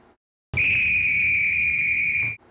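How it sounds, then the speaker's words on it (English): A train conductor's whistle in a Thomas and Friends story sounds as one long, steady, shrill tone that holds for about two seconds and then cuts off. "Oops, that's the conductor's whistle."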